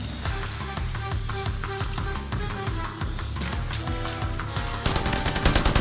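Rapid bursts of gunfire in Predator: Hunting Grounds ring out loud and steady over dense game music and effects, with a sharper cluster of shots near the end.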